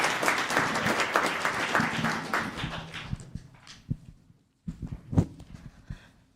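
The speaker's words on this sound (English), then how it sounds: "One more round of applause" Town council meeting audience applauding, a fairly distant round of clapping that thins out and fades, followed by a few scattered claps and small noises.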